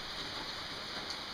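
Steady rain falls on a wet spring evening in Nova Scotia, a faint, even hiss of drops with no talking.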